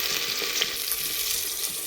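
Potato, onion, tomato and chili sizzle in a pan while being stirred for Maggi rice, a close, continuous frying hiss with faint scraping under it and no voices.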